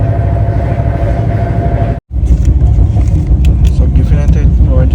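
An express train, the 22691 service from Hyderabad to Hazrat Nizamuddin Delhi, roars along at speed past Sonagiri station, a loud steady rumble and rattle of the carriages heard from on board, broken by a brief sharp dropout midway.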